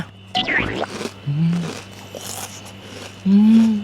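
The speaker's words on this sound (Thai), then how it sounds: "กรุบกรอบมากแบบนี้เรามาทำ ASMR ได้เลยนะเนี่ย" A few crisp crunches from biting into a crunchy snack, close up, with quiet mouth noises and faint background sounds in between.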